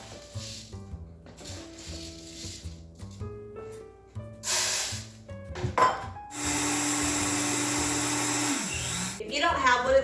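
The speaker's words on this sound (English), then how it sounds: "I'm gonna be using my very historically inaccurate Vitamix to do this" A Vitamix blender grinds barley into flour, roaring loud and steady for about three seconds after stretches of clattering, knocking and music-like tones, with speech heard around it.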